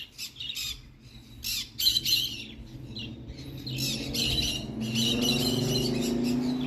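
Green-cheeked conures squawk loudly and repeatedly in harsh, raspy bursts close by, over a steady background hum that builds toward the end.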